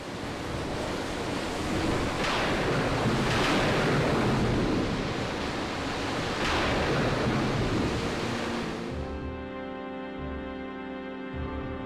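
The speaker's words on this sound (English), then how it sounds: "Look at that sea raging." Roaring storm-tossed sea waves from the video game Final Fantasy I, a loud continuous wash of surf with surging swells that cuts off near the end, giving way to a soft sustained musical tone.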